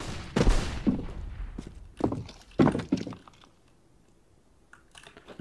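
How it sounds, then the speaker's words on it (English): A loud computer keyboard clacks in short bursts of thunking keystrokes during a CS:GO gaming session, close to the mic, with quiet gaps between the flurries. "you guys can't hear my keyboard this much, because I know it's loud"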